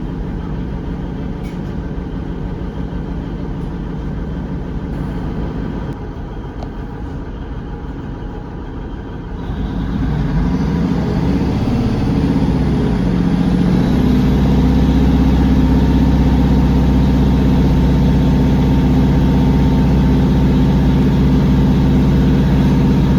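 Class 150 diesel multiple unit idling at a station, a low steady engine drone that grows louder about midway and settles into a heavy, constant rumble with no talk.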